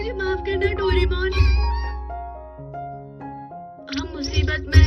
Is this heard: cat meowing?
yes